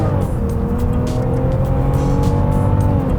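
A 2022 Range Rover Sport with a 3-litre six-cylinder engine, in dynamic mode and sport transmission setting, revs up under acceleration, a close, steady engine note whose pitch slowly climbs and dips as it pulls.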